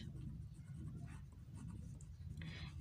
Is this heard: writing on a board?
yes